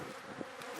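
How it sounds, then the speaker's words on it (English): Feral bees from a wild local colony buzz steadily and close, a dense continuous drone with no talk over it. "Some feral bees."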